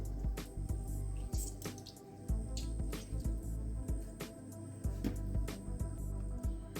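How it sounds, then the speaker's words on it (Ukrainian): Fresh lemon halves squeezed by hand, juice dripping and splashing steadily into a bowl with soft wet squelches, close and fairly quiet, no talking. "Вичавлюємо сюди сік, половинки лимону."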